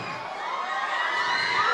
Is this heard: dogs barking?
no